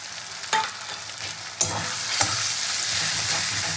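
Chopped chillies and spices fry in a pan with a steady, close sizzle, broken by a few sharp stirring scrapes and clatters. No one speaks.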